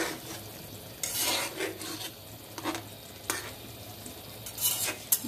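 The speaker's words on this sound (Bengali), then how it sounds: "এখন আমি ভাজা মাছগুলো আস্তে আস্তে দিয়ে দেব।" Fried small mixed fish being added to a bubbling potato curry and stirred in a pan, with soft scraping and sizzling strokes in bursts, close and moderately quiet.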